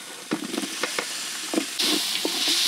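Sliced onion frying in a pan for ration biryani, a close sizzle broken by several short clattering stirs, with a brighter hiss swelling near the end.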